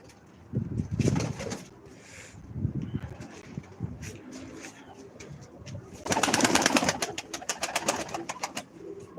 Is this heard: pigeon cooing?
yes